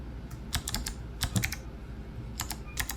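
Rapid bursts of keystrokes on a computer keyboard, typing a web address into a browser, in several quick clusters separated by short pauses, close and fairly loud with no talking.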